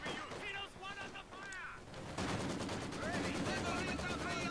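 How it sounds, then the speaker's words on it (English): Repeated firing in the World War II strategy game Company of Heroes 2, with dull thumps of mortars under talking and a denser rapid stretch of fire in the second half. "these mortars are firing quickly"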